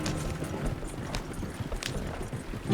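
A horse gallops in Red Dead Redemption 2, its hooves pounding in a quick, continuous clip-clop rhythm at moderate volume, with a faint whinny-like sound among the game ambience.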